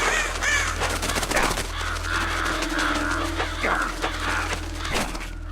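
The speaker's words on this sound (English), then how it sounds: "those are crows. Ravens don't sound like that" Crows cawing in the Metal Gear Solid: The Twin Snakes game on GameCube, several harsh calls over steady game ambience and low hum, moderately loud throughout.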